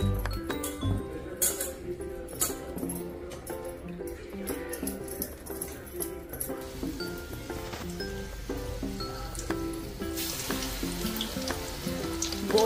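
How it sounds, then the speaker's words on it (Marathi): Vadas deep-fry in hot oil with a bubbling sizzle behind clinks of utensils and kitchen clatter, while a voice talks faintly and a louder burst of sizzling rises near the end. "आई करते वडे, म्हणजे आई तळतीये वडे"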